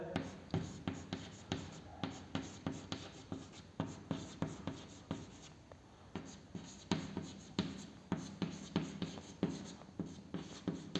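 Chalk or marker scratches across a board in a chemistry lecture, a close run of quick regular strokes and taps with short pauses, no talking.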